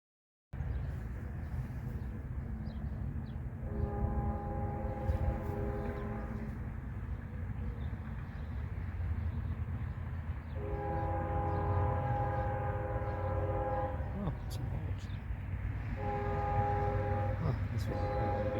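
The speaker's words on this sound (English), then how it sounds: "Nice, an empty ethanol train" An empty eastbound ethanol tanker train led by a single GE locomotive rolls past outdoors, a steady loud rumble of cars with repeated horn-like tonal blasts sounding in several bursts over the passing train.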